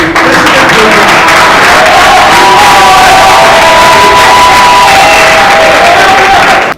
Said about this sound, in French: elles sont très bien acclamées pour eux.